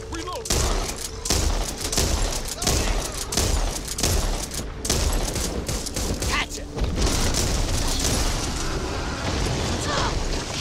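Rapid gunfire rattles through a co-op zombie shooter game, Back 4 Blood, with dense bursts and booms packed together almost continuously, loud and close, while players shout over the shooting.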